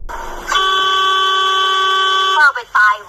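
A taxi driver's car horn blares in one long sustained honk followed by two short sharp toots, loud and close.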